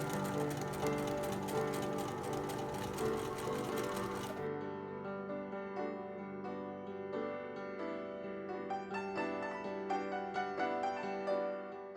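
A sewing machine runs steadily while stitching a 1950s-style summer dress, its rapid needle chatter loud and close before dropping to a softer, even hum with a mechanical rattle.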